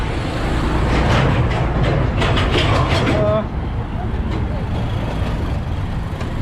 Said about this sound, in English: that's the very busy road